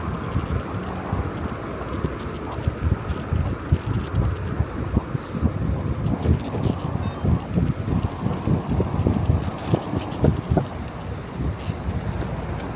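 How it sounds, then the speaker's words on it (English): Wind buffets the microphone during night cycling outdoors on a Brompton folding bike, a steady low rumble with gusty bursts through the whole stretch and no talk. "Even outdoors, I can feel there's a slight wind today."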